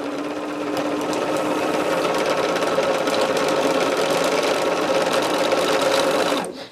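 A sewing machine runs at steady speed stitching off the edge of quilting fabric at a quarter-inch seam, a close, loud, even whirring hum with rapid needle knocking that stops abruptly at the end.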